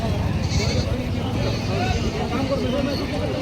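Goats bleat amid the busy crowd babble of a goat market in Parbhani, their calls partly buried under constant talking and background bustle.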